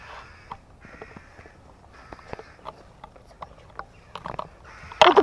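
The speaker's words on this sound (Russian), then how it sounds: "Птицы в лесу." Birds call in a forest near Chernobyl, with repeated harsh, crow-like calls at moderate distance, interspersed with light rustling and a louder clatter at the end.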